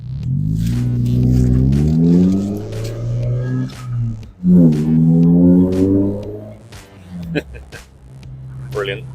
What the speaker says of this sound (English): Let's hear that exhaust again.